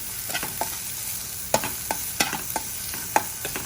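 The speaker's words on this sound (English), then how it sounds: "Now it's hot, so I'm just gonna put some shallots in here and some garlic. I'm gonna stir it around." Shallots and garlic sizzle in hot oil in a pan for a crab noodle soup, with a steady crackling hiss and several sharp scraping knocks as a utensil stirs them, close and loud.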